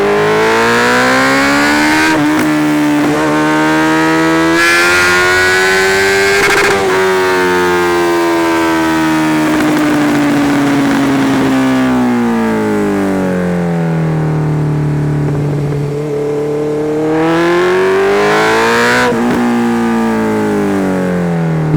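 A Honda CB 650F motorcycle engine revs and pulls through the gears on-board, a loud, continuous inline-four howl rising and falling in pitch with shifts, close to the microphone.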